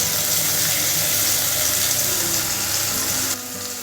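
Loud, steady hissing sizzle of ground masala frying in a hot pan for Chettinad fish kulambu, continuous and close, easing slightly near the end.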